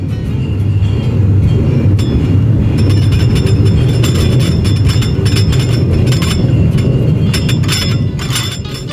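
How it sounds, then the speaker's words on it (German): A subway train rumbles overhead above a plain bar, a loud continuous low roar with metallic clinks and rattles running throughout, close and enveloping. "alle 10 Minuten, Viertelstunde fährt die U-Bahn drüber"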